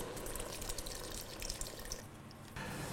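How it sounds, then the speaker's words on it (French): Milk poured over vegetables in a pot for a pumpkin soup, a steady liquid splash and trickle running continuously at close range, with no talking. "On va recouvrir maintenant nos légumes avec du lait."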